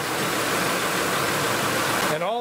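A warmed-up 2005 Ford F150 engine idles after a transmission install, its earlier ticking gone, giving a steady, even rumble close by that stops abruptly near the end.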